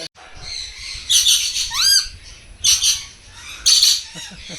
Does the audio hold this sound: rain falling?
no